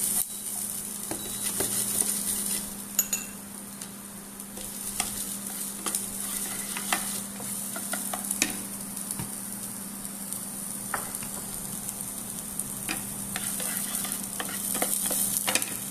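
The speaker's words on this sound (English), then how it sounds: "Saute a little bit, onions and garlic." Chopped onions and garlic sauté in a hot pan for a summer lauki dish: a steady sizzle runs throughout, with scattered scrapes and taps from stirring.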